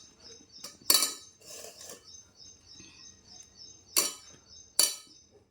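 Drumstick pieces drop into a pot of dal for sambar, making a few sharp metallic clinks and clatters against the pot. The sound is faint and close, with three distinct louder clinks spread over a few seconds and no talking.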